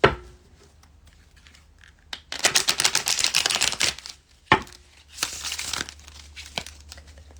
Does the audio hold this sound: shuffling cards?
yes